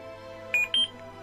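A lightsaber hilt, switched off, plays its volume menu cue: two quick bright electronic beeps in succession, clear over a faint steady hum.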